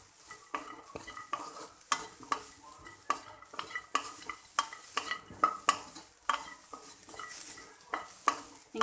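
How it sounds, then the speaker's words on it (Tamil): Onion and coconut being sautéed and stirred in a dry pan with no oil for a Tamil chicken semi-gravy, a steady soft sizzle with repeated scraping strokes of a spoon against the metal, close and continuous. "இப்போ அதே பாத்திரத்தில் வெங்காயமும் தேங்காயும் போட்டு நல்லா வதக்கிக்கோங்க"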